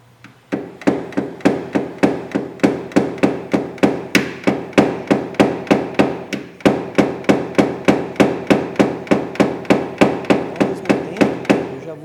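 Steady, rapid metallic tapping of a pin tool on a car body panel during dent repair, evenly spaced sharp knocks repeating for the whole stretch, close and loud with no talk.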